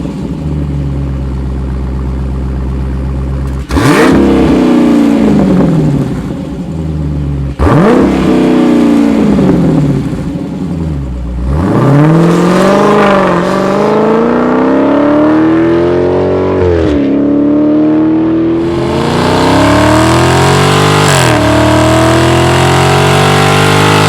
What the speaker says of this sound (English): So I will give you a quick listen to the Borla S-Type.